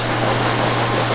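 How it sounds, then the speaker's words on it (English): A generator runs nearby to power lights, giving a loud, steady mechanical drone with a constant low hum and no other sounds over it. "I've got the generator running for some light, so it's quite noisy"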